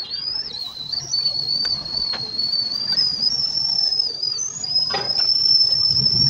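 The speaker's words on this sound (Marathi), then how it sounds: "चला, शिट्टी वाजायला लागली, बघू कसं काम करतोय." A milk cooker whistling as milk boils on the stove: one continuous, shrill, steady whistle that wavers slightly in pitch and runs unbroken throughout, over a faint low background rumble.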